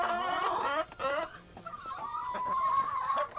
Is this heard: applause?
no